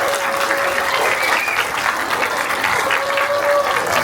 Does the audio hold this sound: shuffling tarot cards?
no